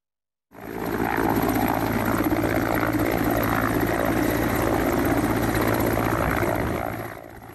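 Helicopter flying equipment up to a mountain summit, its rotor and engine starting abruptly and holding as a loud, steady, close whir with a constant tonal hum before easing slightly at the end.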